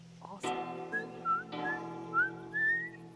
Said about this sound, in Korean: 엘리가 중간중간 휘파람으로 부르는 노래는 언차티드 네이선 드레이크 테마곡이며